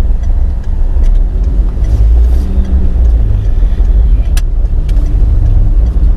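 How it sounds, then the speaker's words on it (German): A car is heard from inside while driving through a city: a steady low rumble of engine and road noise, loud and constant, with a few faint clicks and ticks. "wir sitzen im Auto"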